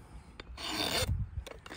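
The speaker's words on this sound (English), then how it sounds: "So now what I'm going to do is file a taper into this all the way around." A hand file rasps back and forth across a horn knob as a taper is cut all the way around, a close, steady scraping with one long stroke followed by a few shorter strokes.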